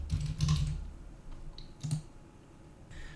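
Keyword typed on a computer keyboard, a quick cluster of close key clicks followed by a few scattered taps, fairly quiet and with no talking.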